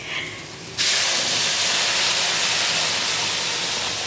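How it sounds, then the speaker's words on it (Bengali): Hot water poured into fried spices in a pan for a Bengali sarpunti fish curry bursts into a loud, sudden hiss and steady steam roar after a short quiet start. "এখন মা এই গরম জলটা দিয়ে দেবে এর মধ্যে।"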